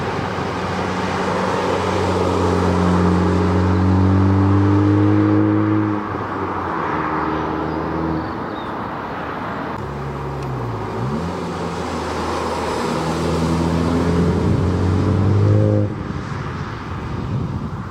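A Honda Civic Type R engine revs hard, its pitch climbing and dropping in repeated sweeping pulls with a brief dip in the middle, loud and close.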